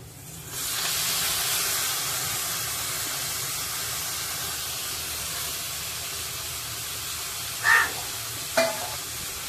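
Marinated mutton is added to a hot spice tempering with turmeric and fries with a loud, steady hiss and sizzle, broken by two short scraping stirs near the end.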